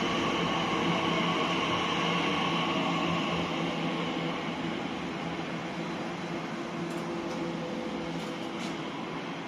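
A Class 345 passenger train on the 11:03 service from Heathrow Airport Terminal 4 to Abbey Wood pulls into a station on the Great Western Main Line at Hanwell. It makes a steady, distant rumble and hiss that fades slowly, with no voices.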